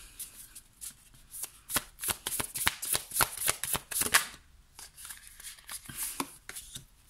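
Tarot cards being shuffled by hand, a quick run of crisp riffling bursts that rise to a dense flurry midway, pause briefly, then pick up again in shorter close-up flicks.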